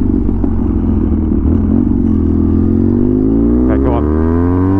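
Custom BMW R100 boxer engine while riding on the road, a loud, close, steady throb whose pitch sweeps as speed changes, with someone talking over it.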